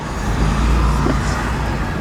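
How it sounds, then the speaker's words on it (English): Road traffic in New York heard from inside a 4Runner stuck in slow traffic: a loud, steady low rumble of engines and road noise, close and continuous. "just stuck in traffic."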